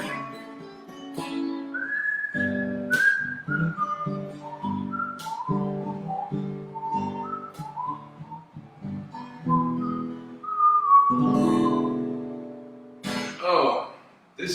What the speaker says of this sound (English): this reverb, natural reverb in this room makes it so easy to whistle